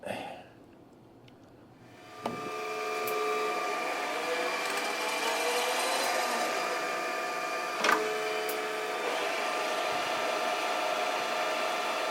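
After a quiet start, a machine starts up with a clunk and runs with a steady, tonal whine and hum as a center drill bores into a tough metal nut, broken by one brief knock midway.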